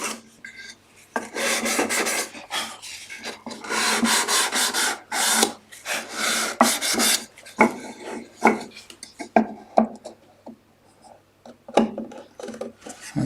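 Sandpaper rasps steadily along the edge of a small wooden uneven-sided dovetail box, loud dense scrubbing strokes that break into shorter, sparser passes toward the end, with no talking.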